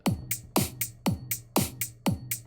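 A programmed drum pattern plays in a music workstation, kick drum thumps alternating with bright snare hits on beats 2 and 4, a tight steady backbeat repeating about two bars, clean and electronic with nothing else heard.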